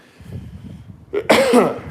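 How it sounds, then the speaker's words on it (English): Quiet low murmuring gives way to a sudden loud, harsh, explosive cough near the end, close to the mic. "I don't know why I'm coughing"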